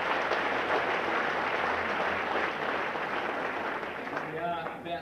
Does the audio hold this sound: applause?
yes